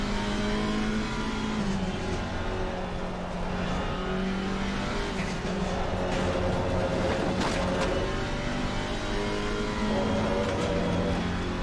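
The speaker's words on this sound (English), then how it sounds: "I just love those spatial sounds when you're near a wall." A GT4 race car engine in Assetto Corsa Competizione, droning steadily at high revs near a trackside wall with shifting reflected tones and a few changes in pitch, loud and continuous throughout.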